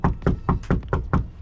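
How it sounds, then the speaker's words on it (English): Seven sharp, evenly spaced knocks on a wooden house door, close and firm, in a quick steady rhythm with nothing else around them. "Knock on that door."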